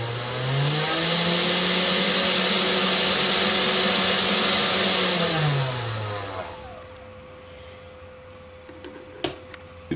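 A home-built slot cutting machine's electric motor whines loudly as it runs up, holds a steady high speed for several seconds, then winds down to a quiet hum, with a couple of sharp clicks near the end.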